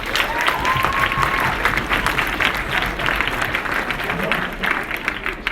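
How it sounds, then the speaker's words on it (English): About 200 students applaud in a campus forum room, a dense, sustained clapping that stays loud and steady throughout with no other sound standing out. "Please give yourselves a round of applause for being here today."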